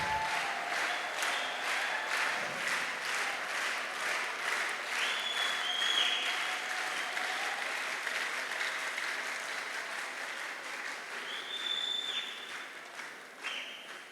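Sustained audience applause fills a ring ceremony for a hundred couples at a church worship service, steady dense clapping carrying on without pause from start to finish.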